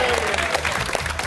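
A studio audience cheers and applauds on a live entertainment show, a dense, steady wash of clapping and whoops over a low musical bed for just over a second.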